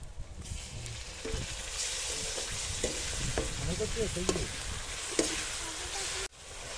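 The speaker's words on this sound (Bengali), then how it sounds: "নাড়াতে থাক। এবার আদা বাটাটা দিয়ে দেবো আমরা।" Crab curry is stirred in a pan just as ginger paste goes in, with a steady sizzle and repeated scraping strokes of the spoon. Near and moderately loud, the sound cuts off briefly near the end.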